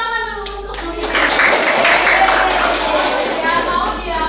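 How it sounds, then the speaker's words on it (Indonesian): Applause from a classroom of children during a microteaching lesson, a steady patter of many hands clapping for several seconds that builds in the middle, with speech over it. "Tepuk tangan dulu untuk Mami."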